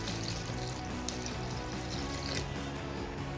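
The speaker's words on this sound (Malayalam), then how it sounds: "നമുക്ക് ഇതിലോട്ട് ഒരു 1/2 കപ്പ് വെള്ളം ഒഴിച്ചു." Half a cup of water is poured into a cooking pot on the stove while making pineapple halwa, a continuous close splashing trickle lasting a few seconds with no one speaking.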